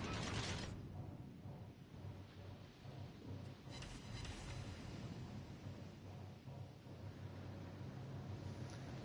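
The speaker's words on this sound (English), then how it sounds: "This engine sounds like the Tashkent engine." Steady low mechanical drone of a warship engine running in World of Warships: Legends, a continuous rumble with faint creaks and wind-like hiss, no talk over it.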